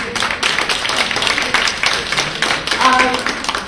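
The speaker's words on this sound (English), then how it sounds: "let us give the teenager and our moderator another round of applause" Steady crowd applause at an annual club meeting, many hands clapping in a dense, continuous patter with some voices mixed in.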